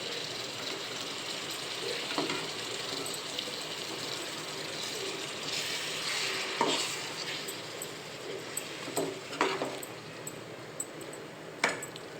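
A pot of tamarind fish curry simmers steadily with a continuous bubbling hiss, broken now and then by faint clicks and taps.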